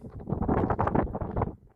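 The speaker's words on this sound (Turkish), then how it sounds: "Gerçekten müthiş bir rüzgar var." Strong wind on a high mountain summit buffets the microphone in a steady, roaring rush, with gusts swelling and easing throughout.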